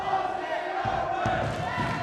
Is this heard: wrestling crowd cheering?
yes